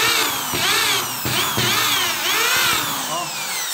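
A power drill bores into Hardiflex fiber-cement board, its motor whining in several sustained bursts that rise and fall in pitch, loud and close, with brief pauses between passes.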